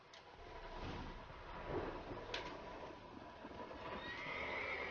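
A horse in The Witcher 3 video game neighs and whinnies over a soft background hum, with a couple of faint clicks and a brief high tone near the end.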